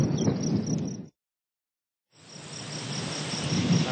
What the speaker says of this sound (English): I'm hearing a grasshopper sparrow out in the prairie.